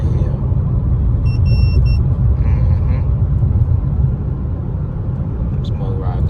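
A car climbs a hill on Georgia roads, its interior filled with a loud, heavy low rumble of engine and road noise throughout, with a person talking over it.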